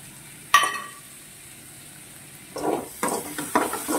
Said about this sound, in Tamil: நல்லா ஃப்ரை பண்ணி எடுக்கிறேன் நான் இதை